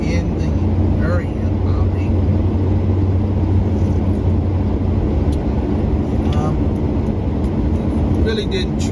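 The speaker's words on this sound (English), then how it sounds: "I'm driving my F350 today, so I can deal with it a little bit." A Ford F350 pickup truck rolls along untreated snowy streets, its engine and tire rumble a constant low drone from inside the cab, while people talk over it throughout.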